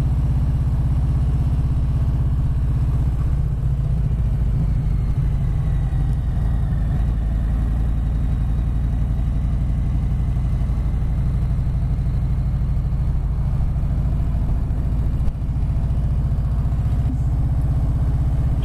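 A 2020 Harley-Davidson Sport Glide motorcycle rumbles steadily along a seaside promenade, its loud, low engine drone constant throughout with wind noise.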